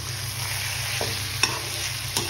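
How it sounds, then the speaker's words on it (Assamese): Pork sizzles steadily as it fries in a pan, with a few brief scrapes and clicks as a spatula stirs the meat to keep it from sticking. "মাজে মাজে মাংসটো লৰাই থাকিম যাতে তলত ধৰি নাযায়"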